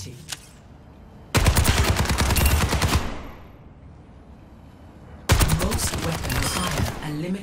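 Rapid automatic weapon fire rattles at training bots in Overwatch 2, in two loud sustained bursts separated by a quiet pause, with a single faint shot near the start.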